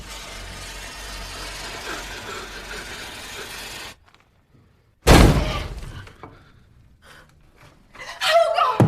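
A sudden sharp firecracker blast breaks a brief silence, loud and close, ringing out after a stretch of engine-like background rumble.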